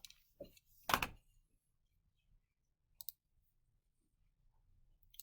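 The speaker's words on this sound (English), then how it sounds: "into my calculator, I'm going to type" Calculator buttons are pressed in a few separate, sharp, close clicks, one louder press near the start and a lighter one later, with near silence between them and no talking.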